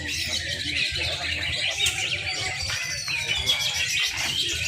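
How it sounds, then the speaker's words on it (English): Magpie robin sings at a songbird competition in Batam, Indonesia, with bright, varied whistled phrases continuing steadily over a busy background hum of other caged birds. "now this is the beginning of the magpie robin session"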